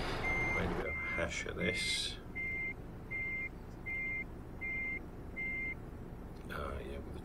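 Truck reversing alarm in Euro Truck Simulator 2 while backing a trailer: five evenly spaced electronic beeps, clear and steady, with someone talking briefly before them and a short burst of other noise near the end.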